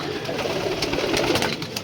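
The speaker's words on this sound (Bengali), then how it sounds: "এই একটা কবুতর আছে আমার, অনেক ভালো" Racing pigeons coo in a loft, a soft continuous murmur of overlapping low calls close by, with no voices over them.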